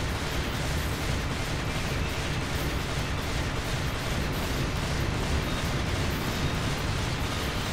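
Rapid handgun fire in Devil May Cry 2 rattles on without pause, a dense continuous stream of loud shots.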